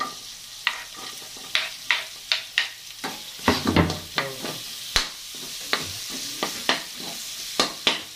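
Garlic sizzles and fries in a hot pan while a utensil stirs and scrapes in repeated short strokes, close and fairly loud, with no talking.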